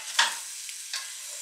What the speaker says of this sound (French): on a touillé bien que les lardons remontent